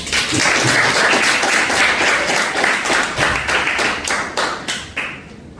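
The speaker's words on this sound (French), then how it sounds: "applaudissez le chaudement" A quiz show audience claps warmly for a correct answer, a dense, steady burst of many hands that runs for several seconds and then thins out and fades near the end.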